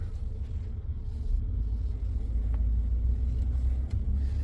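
A 2017 Ford F150 pickup with a shifting concern drives along a road, giving a steady, close low engine and road rumble with no talking.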